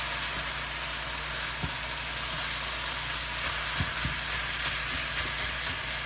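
Dirty rice sizzling steadily in a pan as it is stirred, a continuous soft frying hiss with occasional faint scrapes and knocks from the stirring utensil, no talking.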